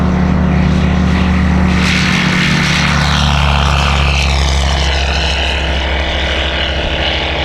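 Propeller airplane droning loudly and close during a landing competition at an airshow, its engine tone shifting as it passes, with a steady low rumble throughout.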